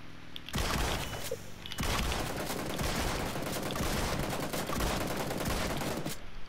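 Video game gunfire in a shooter match, fired at a buggy's tires, comes as dense, loud, sustained bursts with brief gaps between volleys.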